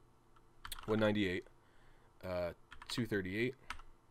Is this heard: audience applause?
no